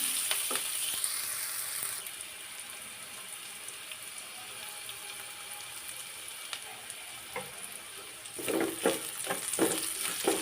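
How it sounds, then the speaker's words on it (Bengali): Chopped onions frying in oil in a pan, a soft steady sizzle with a few scraping stirs, growing busier and louder near the end. "পেঁয়াজটি একটু ভেজে নিলাম"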